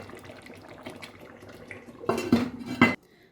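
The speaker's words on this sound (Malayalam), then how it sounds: "എന്നിട്ട് ഇത് നല്ലപോലെ ഇളക്കിയിട്ട് നമുക്ക് ഇനി അടച്ചു വെക്കാം." A Kashmiri green chicken curry being stirred in a metal pot, soft scraping followed by loud clanks as the lid is set on, close and without talk.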